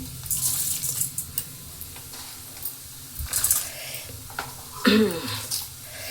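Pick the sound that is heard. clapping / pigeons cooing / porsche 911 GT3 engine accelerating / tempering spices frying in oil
tempering spices frying in oil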